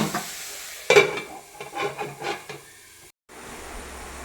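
A mulberry leaf thoran is stirred in a pan: a sharp knock followed by a few scraping, shuffling spatula strokes over a soft sizzle, then a brief silence before a quiet hiss returns.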